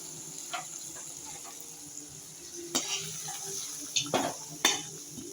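Hot oil sizzles softly as sautéed spices are stirred in a pan for a lamb trotter curry, with a few sharp clinks and scrapes of a spoon against metal.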